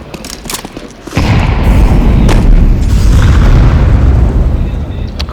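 Explosions in Counter-Strike 2 during a final-round esports match: a loud, sustained booming rumble kicks in after about a second and holds heavy, with quieter sharp pops beforehand.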